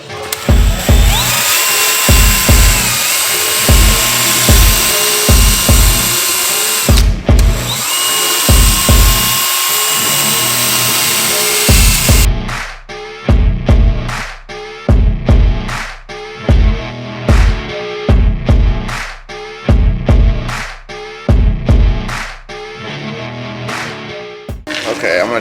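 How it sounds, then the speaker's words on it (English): Car headlight lens sanded with coarse grit sandpaper on a powered pad, loud and close: steady whirring at first, then a run of short, rhythmic grinding bursts with brief pauses between them. "basically run through a bunch of grits of sandpaper until we get it down to where it's supposed to be"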